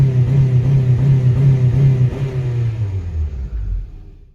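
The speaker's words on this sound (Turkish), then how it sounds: "Araç otomatik olduğu için devir kesiciye giriyor. Kesicinin sesi de bu şekilde." A Honda Civic 1.6 automatic engine held at high revs bounces against the rev limiter with a steady stuttering drone, then the pitch drops away as it settles.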